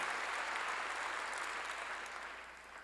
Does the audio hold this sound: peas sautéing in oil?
no